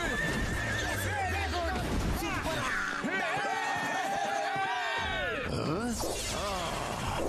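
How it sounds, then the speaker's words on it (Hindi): A cartoon horse in a Hindi animated kids' adventure whinnies repeatedly with rising and falling neighs over clip-clopping hooves, layered with loud music and effects throughout. "चल मेरे घोड़े।"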